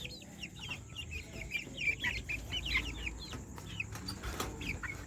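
Mixed-breed Brahma hens with month-old chicks, the chicks peeping in a rapid, fairly continuous stream over soft clucking and light farmyard background noise.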